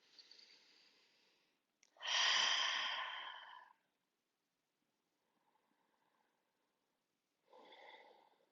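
Slow, audible breaths while holding a stretch in a class using a stick prop. A long airy exhale is followed by a pause and another breath, close and quiet, with near silence in between.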